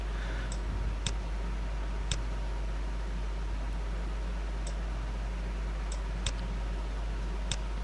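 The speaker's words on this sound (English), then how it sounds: "Click on next and forward." Computer mouse clicks in a Windows 10 setup while installing Ubuntu 20.04 in VirtualBox 6.1, several sharp separate clicks spread out over a steady low hum.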